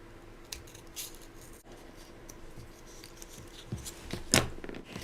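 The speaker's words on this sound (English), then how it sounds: "So I'm going to take my scissors, try to go in as tightly as I can with my scissors." Scissors cut a shape from scrap paper, giving several faint, quiet snips and paper rustles close by, with one sharper crisp cut near the end.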